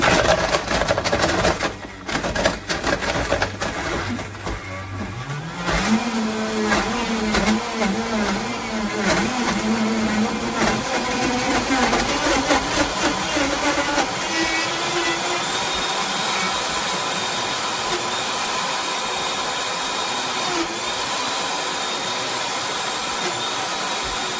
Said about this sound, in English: Now this is going to get loud. I'm going to set it on the frozen treat setting.